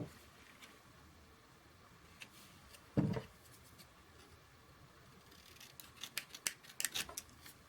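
Scissors trim paper for a card embellishment, a sharp single snip followed a few seconds later by a quick run of small close cuts, quiet and without any voice.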